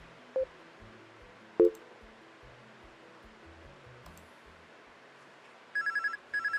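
A phone rings in the video game Anime Studio Simulator, sounding as a burst of rapid repeated electronic trills near the end over background game music with soft thuds and chimes.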